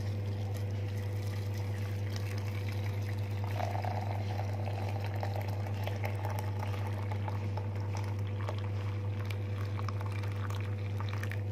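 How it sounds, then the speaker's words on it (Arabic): Boiling water pours in a steady continuous stream over drink ingredients in a cup, a close liquid rush lasting several seconds over a constant low hum, with no speech. "هنزل عليهم بكوبايتين اتنين ميه مغليه"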